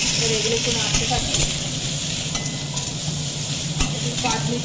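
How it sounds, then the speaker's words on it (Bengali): Raw banana, pointed gourd and potato sizzle in hot oil with five-spice seeds as a spatula stirs them in a pan for shukto, a steady close frying hiss with scraping strokes and no talk. "এবার এগুলো একটু নাড়তে থাকি"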